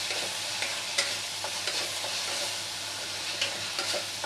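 Ginger, garlic, green chili and chili paste sizzling with chicken in a pan, a steady broadband hiss broken by scraping stirs at irregular intervals, close and moderately loud with no talk.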